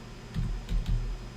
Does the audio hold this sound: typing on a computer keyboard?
yes